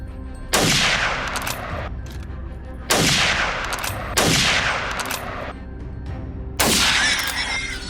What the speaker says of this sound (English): spots a hog on the riverbank and stops it with a well-aimed shot